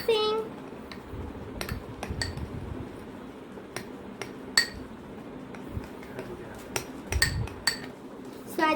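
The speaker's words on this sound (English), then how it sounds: "Keep mixing." A spoon stirs blue-colored slime in a bowl, giving sparse, sharp clinks against the bowl spread through the stretch, with a soft wet churn beneath and a voice talking at times.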